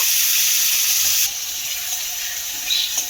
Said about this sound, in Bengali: কুচিয়ে রাখা একটা টমেটো দিয়ে দেবো, দিয়ে একটুখানি ভেজে নেব